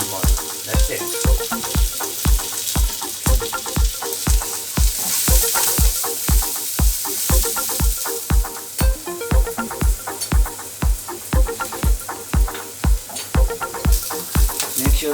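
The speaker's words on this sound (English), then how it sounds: "Make sure the onion and garlic are not burnt" Onion and garlic fry loudly in a pan with turmeric, chili powder and cumin, a constant sizzle broken by a steady, even rhythm of thuds from stirring.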